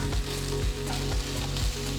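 Onions frying with ginger garlic paste in a pan make a continuous close sizzle, broken by regular scraping strokes of a spatula stirring about every half second, with no talking.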